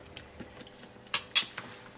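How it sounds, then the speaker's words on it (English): Coconut milk stirred into a spinach and cheese curry, heard as a few light clinks and scrapes of a utensil against the pot, with three sharper taps clustered near the end. "Stir that in."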